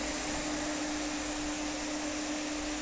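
A 12-volt fan on a waste-oil stove runs at a speed set by a potentiometer, giving a steady, even whoosh with a constant low hum that holds unchanged from start to finish.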